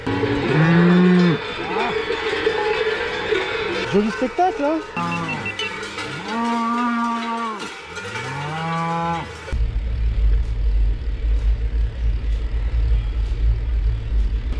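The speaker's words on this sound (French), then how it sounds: "Troupeau de vaches, je sais pas combien de temps ça va durer." A herd of Gascon cattle moos on a road, loud, close, drawn-out calls following one another, with a rumbling engine underneath; a person speaks briefly.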